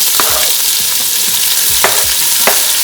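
Onions sizzle loudly in hot oil in a medium skillet with a constant crackling hiss, punctuated by a few scraping stirs of a utensil in the pan.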